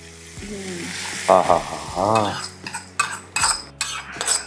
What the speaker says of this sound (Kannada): ಎಲ್ಲ ಮಿಕ್ಸ್ ಮಾಡಿಬಿಟ್ರೆ ಈ ಕಡೆಯಿಂದ ಬಿಟ್ಬಿಟ್ರೆ ಚಟಾಪಟ ಅಂತ ನೋಡಿ